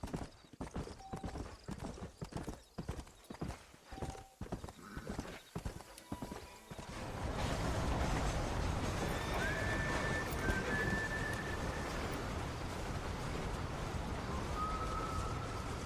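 Horse hooves in the Red Dead Redemption video game: rhythmic clip-clop at a trot that breaks into a dense, continuous galloping rumble, with a couple of faint whinnies over the hoofbeats and no talk.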